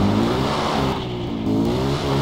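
A car engine revs in the Far Cry 4 video game, a loud, close, steady drone that dips slightly mid-clip before climbing again, with no talk over it.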